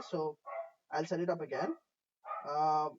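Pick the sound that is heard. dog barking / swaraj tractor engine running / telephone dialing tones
dog barking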